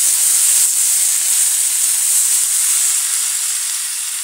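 Onion and garlic fry with okra in a pan, giving a loud, steady sizzling hiss that stays continuous and close throughout.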